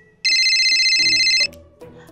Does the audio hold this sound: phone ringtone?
yes